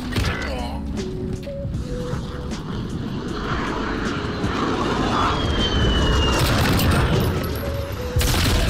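An enemy VTOL aircraft from the video game Modern Warfare flying over during a search and destroy match: a loud, sustained engine roar that swells toward the end, layered with mechanical creaks and game effects, with some talking.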